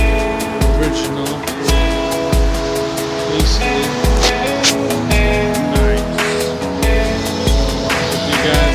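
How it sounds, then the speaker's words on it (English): An original classic car engine runs loudly and close, with a regular thumping low pulse and steady tonal hum, accompanied by rhythmic clicking over the whole stretch. "Sounds amazing. It's a beautiful car."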